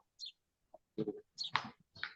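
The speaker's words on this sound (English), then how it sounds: "I can hear the birds tweeting out there where Vivian is." Short bird chirps and clucking calls from outdoors, several brief bursts spaced through the moment, clear against silence.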